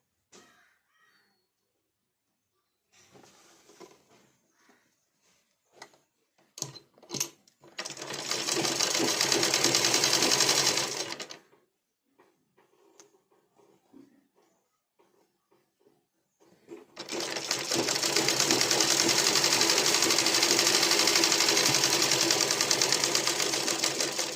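A sewing machine stitching folded piping onto a blouse runs in two long, steady bursts, with quiet handling clicks and fabric rustling in the pauses between them.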